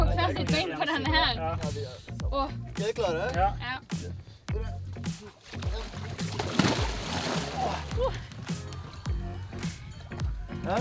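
People jump from a floating sauna in Oslo into the water, making repeated splashes and sloshing that come through amid excited talk and shouting nearby.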